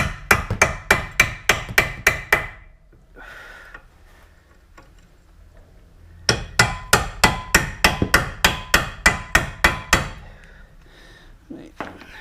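Two bursts of sharp metallic hammer taps on a Peugeot 207 brake part, about ten evenly spaced blows each, separated by a few seconds of quiet, close and loud.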